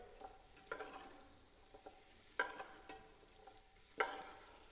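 Carrots are stirred in a cooking pot with a faint sizzle beneath, while several soft scrapes of the spoon come at irregular intervals.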